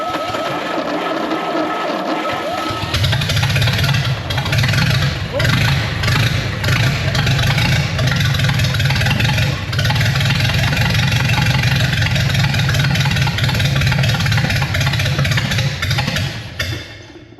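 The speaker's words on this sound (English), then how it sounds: "if that's not an honest test of an old engine laying in a barn, I don't know what is" An old Ford Model A engine, long stored in a barn, catches on its first start and settles into a loud, uneven low idle that runs steadily before cutting out near the end.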